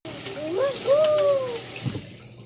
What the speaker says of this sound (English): And now I'm going to wash my hands.